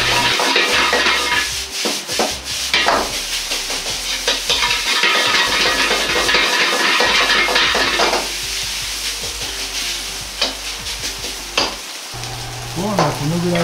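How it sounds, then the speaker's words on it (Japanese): Rice and egg are stir-fried for Sichuan-style spicy fried rice, with a continuous loud sizzle broken by repeated scraping and tossing strokes in the pan, close up and without talk. "卵とご飯が一体になるように混ぜ合わせながら炒めていきます。"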